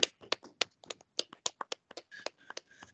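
Sparse, uneven clapping from a small audience thanking Moda and Sola at a Civil Service Race Forum event, with separate close hand claps in an irregular rhythm over near silence.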